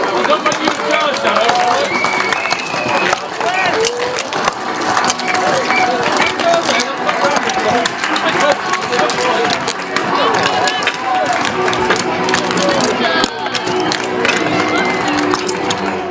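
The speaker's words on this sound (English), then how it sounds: "stamp your feet, clap your hands, wave your flags, and welcome your Isle of Wight Wightlink Warriors!" A speedway crowd welcomes the Isle of Wight Wightlink Warriors with a dense, continuous roar of clapping, stamping and cheering that stays loud throughout.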